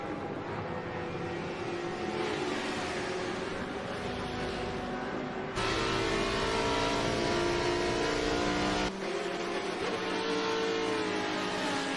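GT race cars roar around the Maple Valley circuit during a Blancpain GT America race, a dense continuous engine drone with shifting pitches as several cars pass close by, steady and loud throughout.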